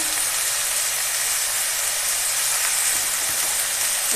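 Shredded cabbage hits a hot pan with salt, dried red chili and bay leaf, giving a loud, dense, continuous sizzle and hiss that fills the whole stretch with no talking.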